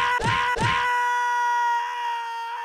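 Video game characters let out two quick loud screams in a row, then a sustained high tonal wail rings on and slowly fades.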